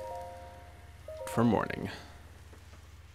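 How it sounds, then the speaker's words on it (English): Rain falling in the video game The Legend of Zelda: Breath of the Wild, a soft steady patter running throughout under game music tones and a brief spoken line. "Oh goody, it's raining."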